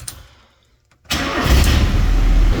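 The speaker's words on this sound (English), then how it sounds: "I think there is still an exhaust leak a little bit" A Mazda B2200 pickup engine with an exhaust leak cranks briefly, then catches and settles into a loud, rough, rumbling idle with a raspy, ticking exhaust note.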